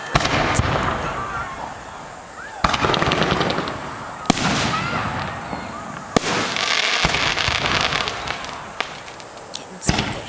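Ground fireworks burst in loud, crackling volleys at a Fourth of July display, with sharp bangs and fizzing crackle repeating throughout, close by, while people talk underneath.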